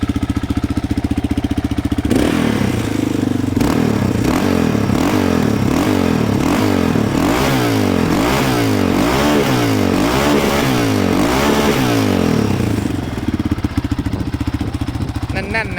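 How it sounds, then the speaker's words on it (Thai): A Yamaha Raptor 660R ATV engine revved repeatedly, loud and close, rising and falling in a regular series of throttle blips after an idle, then settling back to idle. "ฟังเสียงตอนเบิ้ลกันครับ แน่น ๆนะคร"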